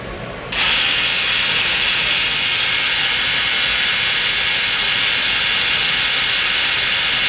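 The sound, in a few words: CNC Swiss lathe live tools running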